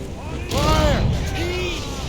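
Ship cannon fire during a naval battle in Assassin's Creed Rogue: a loud booming blast swells about midway, with rumbling low end and a second softer report, under shouted game dialogue.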